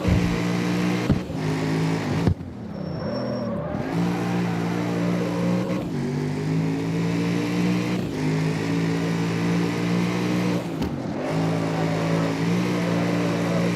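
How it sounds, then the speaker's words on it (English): V12 car engine in the CarX Street racing game, revving with a deep, loud, continuous roar that rises and falls through repeated throttle blips, gear changes breaking the drone every few seconds. "the best part is that V12 makes it sound like a monster truck too"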